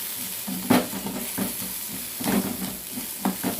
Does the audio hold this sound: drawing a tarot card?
no